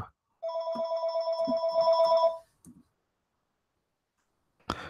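An electronic phone ring trills steadily for about two seconds, followed by a soft click and silence, then a sharp knock near the end.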